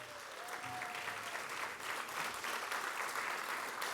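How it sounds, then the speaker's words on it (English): An audience at a school district gathering gives principals a sustained round of applause, a steady wash of many hands clapping that sounds somewhat distant and soft throughout. "Please give our principals a round of applause."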